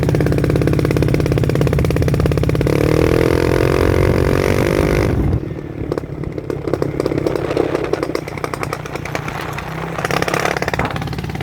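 A Honda PCX scooter engine revving up close, a buzzy rising and falling rev, then settling into a rougher, lower, uneven running note.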